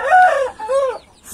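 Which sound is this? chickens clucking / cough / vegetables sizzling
chickens clucking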